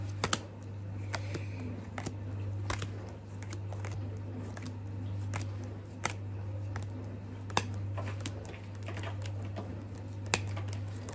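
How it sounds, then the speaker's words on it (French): A deck of oracle cards handled and shuffled indoors, giving crisp intermittent clicks and soft riffling taps over a steady low hum, close and fairly quiet, with no voices. "je regarde si j'ai bien toutes mes cartes"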